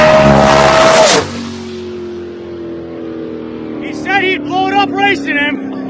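A Ford Mustang engine roars loudly for about a second, then drops to a low, steady hum that lingers while people talk over it.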